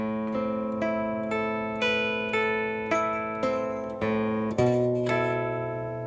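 An electric guitar plays the riff from a song, with a series of clear, ringing chord strikes about every half second, each decaying before the next, played alone without talking.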